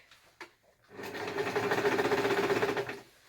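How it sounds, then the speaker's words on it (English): A sewing machine stitches a torn cotton sheet in one steady, close, rapid whirring burst of about two seconds, following a couple of brief clicks. "maybe this stitching will stop the rest of the sheet tearing"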